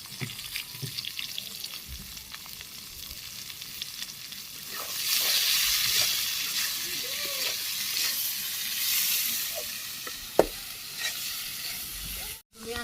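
Potatoes and chilies sizzling and being stirred in a hot pan in a Bangladeshi village kitchen, a steady, hissing fry that grows louder midway, with occasional clinks of a spoon.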